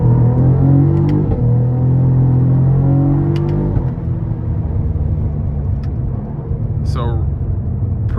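Cadillac CT4-V Blackwing with a 3.6-litre twin-turbo engine pulls hard from inside the cabin, a loud, steady rumbling drone rising in pitch through the first few seconds, then settling into a constant roar.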